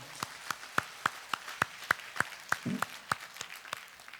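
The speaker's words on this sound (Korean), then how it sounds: "얼마나 감사한지 주님께 감사의 박수를 드립니다." Retreat participants at a Catholic retreat house give a slow, sparse round of thanks, with about a dozen distinct claps spaced evenly and a faint murmur partway through.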